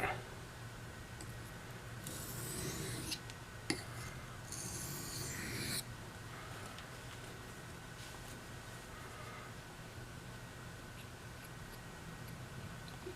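A knife blade scrapes across a new sharpening stone in two bursts of gritty rasping strokes, fairly close, followed by quieter handling and near silence.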